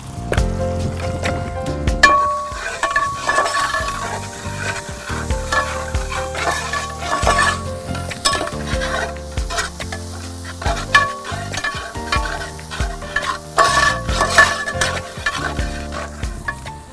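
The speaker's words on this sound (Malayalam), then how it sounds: "ഞണ്ട് വറുത്ത വെളിച്ചെണ്ണയിലേക്ക് ഇഞ്ചി പച്ചമുളക് വെളുത്തുള്ളി ചെറിയുള്ളി" Steady crackling sizzle of ginger, green chillies, garlic and shallots frying in coconut oil used to fry crab, with intermittent scraping and stirring knocks throughout, no talking.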